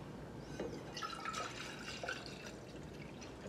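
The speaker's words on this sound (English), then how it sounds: "Now, pour some Kool-Aid." Kool-Aid pours into a cup, a faint, thin trickling and splashing of liquid that runs for a few seconds with small drips, quiet and close.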